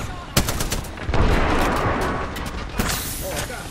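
Rapid bursts of gunfire in the Apex Legends battle royale video game crackle close and loud in repeated volleys, with busy game noise throughout.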